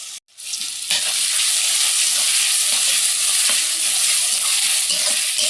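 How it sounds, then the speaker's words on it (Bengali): Onion and green chili sizzle steadily in a hot pan for lunch, with a spatula stirring and scraping through the constant frying hiss after a brief quiet start. "আমি এই যে দিয়ে দিলাম পেঁয়াজ আর কাঁচামরিচ, একটু নেড়ে নেব।"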